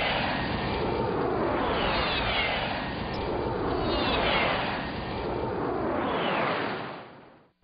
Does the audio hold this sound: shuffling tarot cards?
no